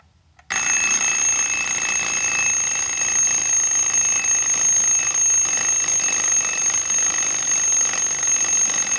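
A mechanical alarm clock bell rings loud and continuous after a brief click, an unbroken metallic rattle that keeps going without pause.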